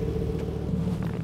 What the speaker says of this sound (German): ihr hört schon, der Wagen läuft natürlich schon